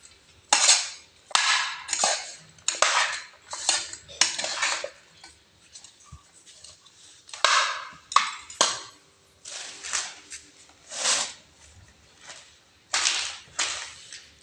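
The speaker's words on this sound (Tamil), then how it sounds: "வெல்லம் கொட்டிக்கலாம்." Jaggery going into a pan, heard as a run of sharp metallic clinks and scrapes of a utensil against the pan, arriving in quick repeated bursts with brief pauses between them.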